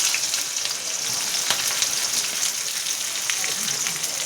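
Steady crackling sizzle of onions frying in hot oil after a tempering of cumin, mustard seeds and black gram, close and continuous, with a few sharper pops and light stirring scrapes.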